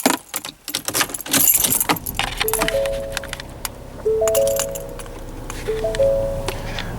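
Keys jangling close by as a 2021 Ford EcoSport S is about to be started, with sharp metallic rattles in the first seconds followed by repeated soft electronic chime tones and a low idle hum.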